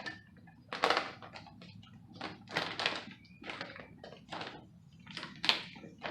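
Someone cuts open an Ironite lawn fertilizer container up close, producing a series of about eight short, crisp scraping and crunching bursts in an uneven rhythm, with no talking over them.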